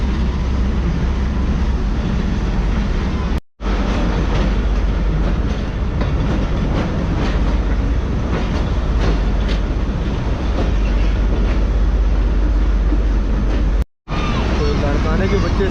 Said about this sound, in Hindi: हमारी ट्रेन वो लाड़काना शहर में एंटर हो चुकी है